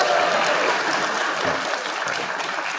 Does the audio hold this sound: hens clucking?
no